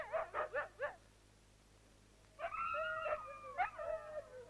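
Sled dogs on the 1981 Iditarod trail in Alaska bark in a quick burst of four sharp yaps, then whimper and howl in long, wavering, whiny cries after a short pause, fairly close and alone.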